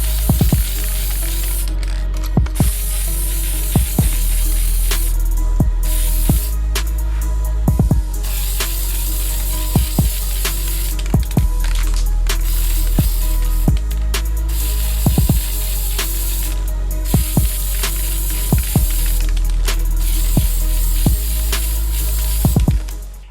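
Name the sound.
spray paint sprayed onto boot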